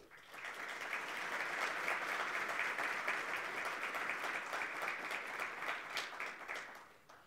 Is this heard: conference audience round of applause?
yes